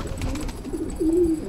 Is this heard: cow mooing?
no